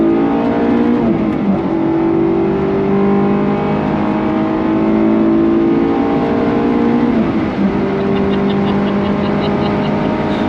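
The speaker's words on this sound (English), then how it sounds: "All I can hear is engine" A Honda S2000 sports car engine drones and revs steadily throughout, pitch rising and falling as it accelerates, loud and close, with a brief rev change near the middle.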